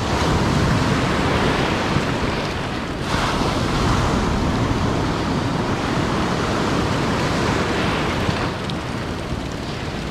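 Ocean surf breaks on the beach at La Jolla in a loud, continuous roar, with heavy wind buffeting the microphone and no talking.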